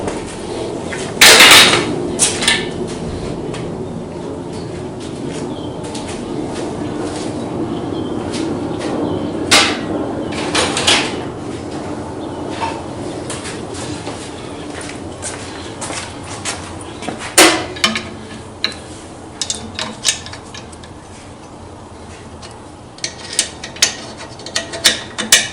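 Metal clicks, ratcheting and scraping come from tightening the mount of a DRO display during installation, with loud bursts early on and scattered sharp taps later, close by and without speech.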